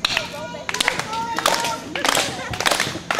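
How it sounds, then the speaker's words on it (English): An audience at a live show claps in sharp, uneven bursts that come and go in waves, with voices mixed into the room noise. "You all can keep the clapping going"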